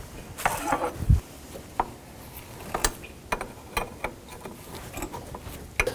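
A 16mm wrench tightens a power steering pressure line fitting on a 1984-2001 Jeep Cherokee, making scattered metallic clicks and ratcheting taps, close and moderately loud, with a sharper knock near the start.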